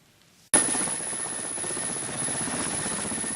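A rescue service helicopter at a Kazan emergency ministry landing site starts up abruptly, then its engine whine and rotor noise hold as a loud, steady, close roar.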